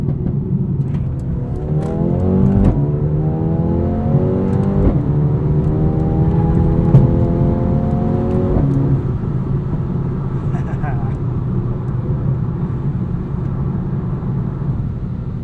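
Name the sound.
2020 Mercedes-AMG A35 sedan accelerating up an entrance ramp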